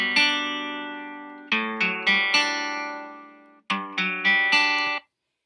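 GarageBand acoustic guitar ringtone, a moody sequence of plucked notes and chords ringing clearly and decaying, in two short bursts separated by a brief gap, with no voices.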